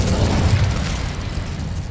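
A booming fire blast from the Incendio spell in Hogwarts Legacy roars loud and close, a short, heavy low rumble that fades over about two seconds.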